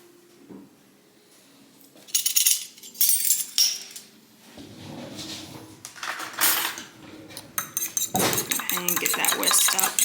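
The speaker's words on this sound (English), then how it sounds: "And get that whisked up real good." A fork whisks an egg and water briskly against a bowl, rapid clinking and scraping in bursts, close up with no talking.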